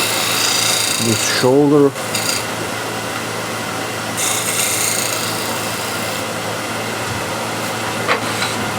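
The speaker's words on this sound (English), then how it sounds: "with the square and scraper, clean up this" A square scraper works a shoulder on a wood-turning lathe, producing a steady, close, broadband rasping scrape that runs throughout, with a voice speaking briefly near the start.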